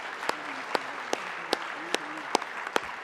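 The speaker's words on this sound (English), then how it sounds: "Can we give them one more round of applause" Audience applause for student performers at an evening event, steady dense clapping with a few sharper claps standing out, moderately close and continuous throughout.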